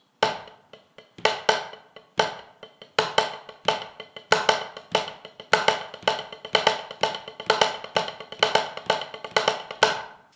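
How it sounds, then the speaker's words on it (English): Rapid sticking on a practice pad, a dense stream of light taps with regularly recurring louder accented strokes, steady and close. "we're going to add one more accent to that paradiddle,"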